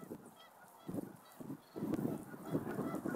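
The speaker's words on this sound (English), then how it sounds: "You can hear the birds, geese." Geese honk repeatedly in bursts at moderate distance, calls overlapping in a busy outdoor chorus.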